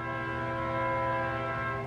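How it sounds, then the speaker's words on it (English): A train horn blares in one long, sustained, steady chord, loud and unbroken for the whole stretch, with no other sound competing. "This guy that's been driving the train here recently, he's really aggressive with the horn."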